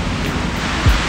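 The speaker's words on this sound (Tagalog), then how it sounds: "Medyo lumalakas na yung hangin." Strong typhoon wind during Typhoon Odette in Siargao, a steady broadband roar with a brief low gust thump near the end, no voices.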